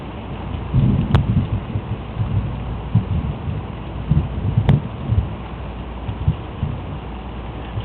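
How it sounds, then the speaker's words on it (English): Rumbling thunder rolls through a rainstorm, low and moderately loud over steady rain noise, with a couple of sharp crackles standing out and no one talking. "I love to hear that thunder."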